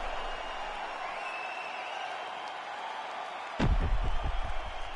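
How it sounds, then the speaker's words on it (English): A crowd at a fight event in GTA 5 roars its approval after a round with a knockdown, a steady wash of distant cheering that swells with a sharp thud near the end. "So the crowd voicing its appreciation after that round."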